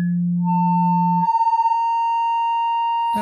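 A pinged generative feedback patch with crackle in Ableton plays a steady low sine tone. It jumps to a higher pure tone that wavers briefly, then holds, and a short crackly burst cuts in at the end.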